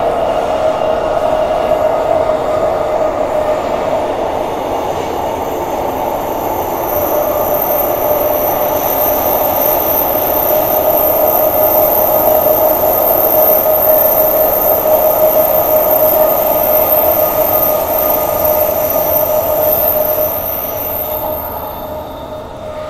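A passenger train between Thornlie and Perth runs steadily with a loud rumbling hum and a high metallic squeal from the wheels, easing off slightly near the end.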